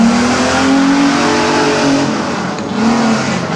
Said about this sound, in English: As we see Kurt Wilson now making his way around the hairpin in his Subaru WRX.